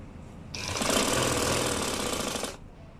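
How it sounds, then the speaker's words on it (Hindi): A sewing machine runs in one steady two-second burst, stitching the folded edge of a cloth face mask, its rapid close mechanical whirr starting and stopping abruptly amid quiet room tone. "ये एक साइड का सिलाई हो गया।"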